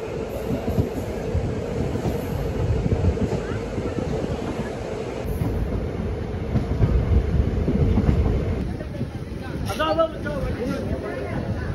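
A Pamani Express train (17407) running between Tirupati and Tiruvannamalai rolls steadily along the rails. It makes a loud, close, continuous rumble with rhythmic wheel clatter that swells slightly midway before easing.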